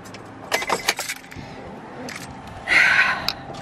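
Car keys jangle in a few quick, bright bursts beside a still-running Tesla, followed by a louder rustling clatter near the end, with no talk.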